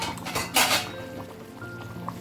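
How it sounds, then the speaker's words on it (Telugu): A metal lid is lifted off a cooking pot of curry on the stove, giving a brief clink and clatter followed by quieter kitchen background. "మూత తీసి"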